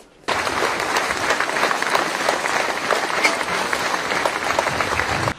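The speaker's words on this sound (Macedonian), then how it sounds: "Пожарникарите и спасувачите добија аплауз за тешката борба со пожарот и за младите жртви" A large crowd gathered in Delčevo in mourning applauds firefighters and rescuers, a sudden onset of dense, sustained clapping that stays loud and even before cutting off, with no speech over it.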